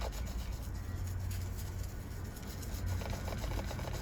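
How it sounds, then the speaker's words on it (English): Steady, close-up scrubbing of a toothbrush on a car steering wheel, with a brisk back-and-forth rubbing texture, continuous and fairly loud throughout, with no voices. "Use the toothbrush and clean."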